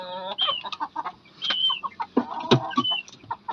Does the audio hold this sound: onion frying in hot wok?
no